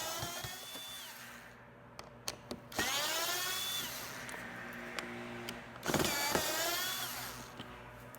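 Power driver spinning out Phillips screws from a Honda Civic fog light, several short bursts of motor whine that rise and fall in pitch, separated by pauses with small clicks of handling.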